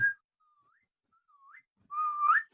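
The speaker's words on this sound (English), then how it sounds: "You won't hear me speak, you'll just hear whistles to tell you that I'm there." A person whistles short melodic phrases, a brief gliding tone followed by a louder rising whistle near the end, alone with no talking.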